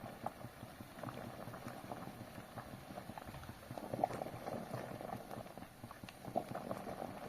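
Water boiling hard in a pan while cooking egg kurkure, giving a faint, steady bubbling and popping throughout with small irregular bursts.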